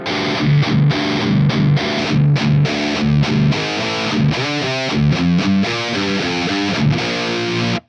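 A distorted electric guitar chugs out a rhythmic metal riff through a Mesa Boogie cabinet, loud and punchy with palm-muted stabs and ringing notes.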